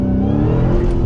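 A 2020 Dodge Challenger Hellcat Redeye with 797 horsepower accelerates under a feathered throttle, its engine a loud, close, steady roar with no talking.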